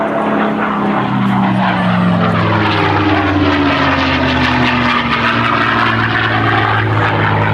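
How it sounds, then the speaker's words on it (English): A P-51 Mustang propeller fighter makes an inverted pass at an airshow, its piston engine roaring loud and close with a falling drone as it sweeps by. "The next maneuver that Lee's going to set up for is coming in for is the inverted pass"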